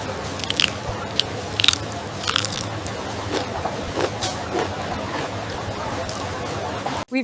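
Crispy seasoned shrimp being bitten and chewed close up, with repeated sharp crunches and crackles in an uneven rhythm.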